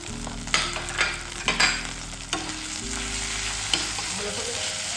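Ginger and garlic paste frying in oil, giving a dense, close sizzle with several sharp stirring scrapes and knocks against the pan, and no speech.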